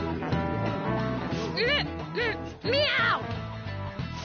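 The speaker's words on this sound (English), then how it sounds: "Did I just hear a cat just now?" A cat meows in the video game Persona 5 Royal, a few short rising and falling mews heard over background music and game voices.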